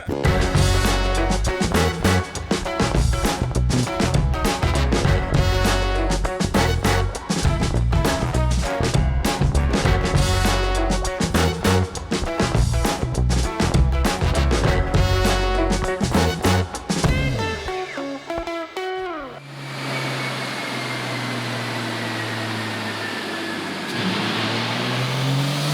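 A high-mileage Toyota Supra engine revs hard on a dyno, a loud harmonic roar climbing steadily in pitch for about eighteen seconds before cutting off, then settling into a low idle and whirring dyno rollers.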